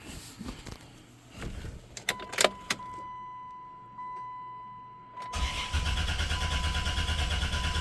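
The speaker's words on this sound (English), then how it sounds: "it likes to crank long on the first start, like it loses fuel pressure" A 1994 Chrysler Town & Country minivan, all-wheel drive, cranks with clicks and whirring before catching and settling into a steady idle, heard up close with no talking.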